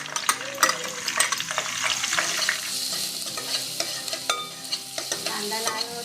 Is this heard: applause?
no